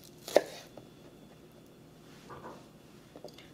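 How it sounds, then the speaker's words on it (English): A knife chops xoconostle into big chunks for green salsa verde, one sharp close chop standing out, then a few softer cuts in a quiet kitchen. "I'm just really enjoying chopping right now."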